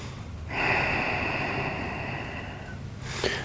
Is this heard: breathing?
yes